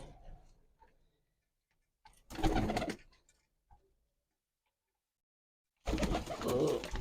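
Two bursts of close, muffled cooing from loft pigeons and a squab with a long near-silent gap between them, plus a faint coo early on.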